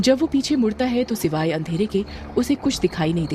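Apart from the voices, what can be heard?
No everyday noises stand out.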